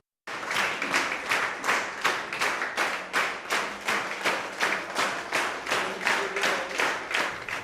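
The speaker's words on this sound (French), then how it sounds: "Un tonnerre d'applaudissements pour un travail accompli" Applause for an outgoing union secretary general at the Cayenne hospital centre, a steady rhythmic clapping that sounds like a group clapping roughly in unison, loud and sustained with no talking over it.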